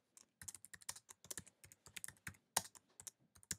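Rapid, irregular keystrokes on a computer keyboard at a veterinary office, entering a service item into an invoice; crisp clicks close by with no talking.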